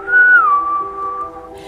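A human voice whistles in imitation of a creature, a clear, loud single note that glides downward and then holds steady before fading, with no talking over it.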